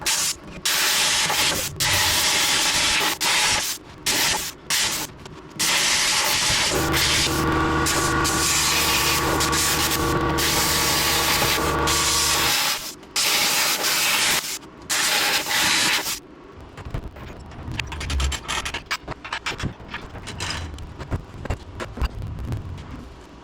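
A plasma cutter slices through rusted nuts underneath a 2001 second-generation Dodge truck, giving long loud hissing bursts broken by short pauses, with no talk.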